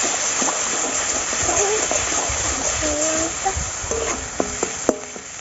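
Water from ground spice paste goes into a hot pan of river catfish (aar) curry in a Bengali village kitchen. A close, hissing splash and sizzle carries on throughout, with faint voices or birdsong behind it.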